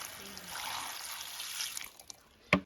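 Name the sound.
water poured to wash harvested greens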